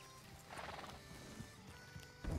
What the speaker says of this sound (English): Hey, Philly, you can leave your horse right there.